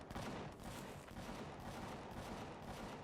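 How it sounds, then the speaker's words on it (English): Gunfire from a distant battle in the space survival game Empyrion Galactic Survival crackles continuously, a dense rattling barrage of shots at moderate loudness with no talk over it. "Man, they are shooting at something fierce."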